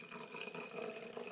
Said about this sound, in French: Une fois que le sel a été mis, on va venir mettre de l'eau.